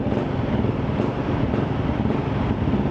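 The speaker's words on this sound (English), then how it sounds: "If you like a loud exhaust, this is definitely loud." A steady, loud Honda CRF300 motorcycle exhaust roar with a constant rumble throughout and no pauses or voices.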